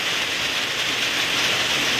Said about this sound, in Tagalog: Kanina hindi pa naman umulan, pero ngayon umulan, lumakas ulit bigla yung ulan.